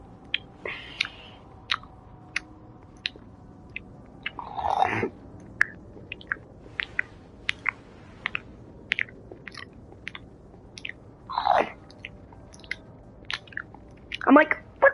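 Someone close by chews a crunchy vegetable, producing crisp clicks and crunches in an irregular rhythm, with a few louder, rustly bursts of bites in a quiet room.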